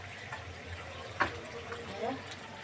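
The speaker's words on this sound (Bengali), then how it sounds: "দিয়ে দিলাম আর একটু জল।" More water poured into a pan of thin Bengali fish curry, a light running trickle with a few small splashes, heard close under a faint murmur of a voice.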